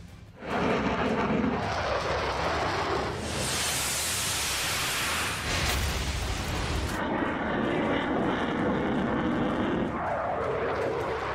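Modern fighter jets roar past in a military setting, a loud sustained broadband rush that swells to a harsh peak in the middle before settling back into a steady engine roar.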